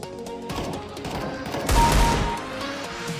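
Shotgun fire in the video game CS:GO, heard as a few sharp, close blasts in a steady din of game combat, with one heavier boom partway through.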